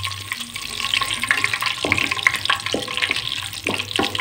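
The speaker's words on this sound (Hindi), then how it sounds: "अभी हम घी में डालेंगे खड़े मसाले। इसको हमने थोड़ा सा इसमें फ्राई करना है" Whole spices sizzle in hot ghee in a pan for a biryani, a steady close crackle with occasional stirring clinks and scrapes and no talk.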